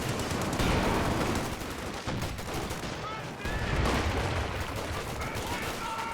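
Rattling machine-gun bursts and scattered rifle shots in a World War II real-time strategy battle between Axis and Allied armies, a steady, busy barrage heard under a commentator's voice.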